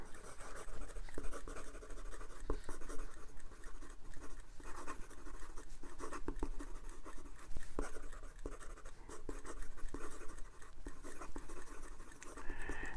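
A Japanese eyedropper fountain pen, a 2022 MaJohn C4, writes quickly on paper, its nib giving a continuous fine scratching with rapid stroke bursts, close and steady throughout, no talking.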